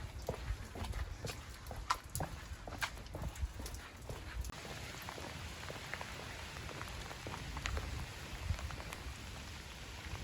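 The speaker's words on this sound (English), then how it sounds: "It's raining very hard after a few weeks of super hot weather" Heavy rain pours after a stretch of hot weather, a dense, continuous hiss with scattered louder drops and patters spread evenly across the whole stretch, with no voices.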